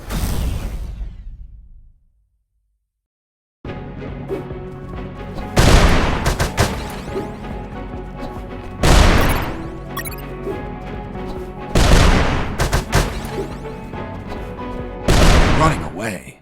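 Grenade blasts and bursts of gunfire from the UnMetal video game crack out repeatedly, loud and close, over game music, with a short silent gap early on and a voice speaking between explosions.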